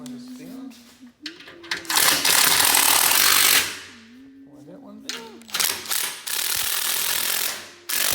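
A caravan jack on a Lightweight Panorama 506 caravan is wound down with a ratchet, giving bursts of rapid, loud metallic clicking that stop and start. Someone talks between the bursts.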